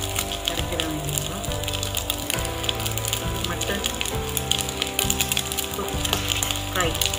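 Mutton kothu fry cooking with curry leaves, a dense, steady crackling sizzle that runs loud and close throughout, mixed with background music.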